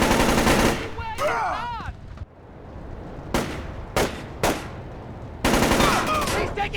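Heavy gunfire in Splinter Cell Chaos Theory, loud broadband bursts and sustained automatic fire in several separate volleys, with brief gaps between them and some whooshing, warbling effects in the first burst.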